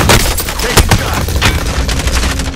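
Gunfire in the video game Call of Duty: Warzone, close and loud rapid shots and bursts packed tightly together throughout, with heavy low thumps mixed in.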